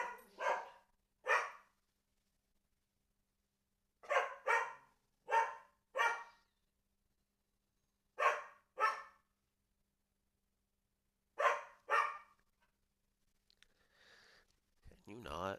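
A guard dog barks in pairs of sharp woofs, repeated in spaced bursts with quiet gaps between them, heard at moderate distance in an otherwise still room.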